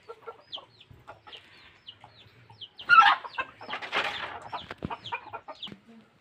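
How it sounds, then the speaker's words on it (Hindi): A rooster gives scattered short clucks and squawks over several seconds, with a busier flurry of calls in the middle against a quiet background. "देखिए मुर्गा है,"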